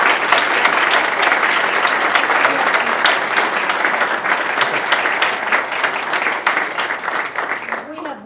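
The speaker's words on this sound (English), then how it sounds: "I'm sure everyone in the audience will join me when I applaud." Audience at a teacher seminar applauding steadily and loudly for the full stretch, a dense wash of clapping that tapers slightly at the end.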